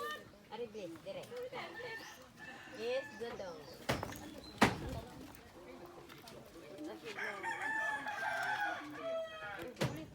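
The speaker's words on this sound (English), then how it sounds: "You love to hear them roosters." Roosters crow several times against outdoor village background noise, with a sharp knock partway through and a louder, longer crow near the end.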